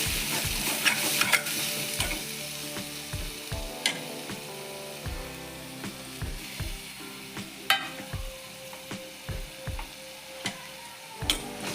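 Spices and chilli powder frying in oil in a pan over a low flame for fish curry, a continuous sizzle broken by regular clinks and scrapes of a stirring spoon against the pan, close and without talk.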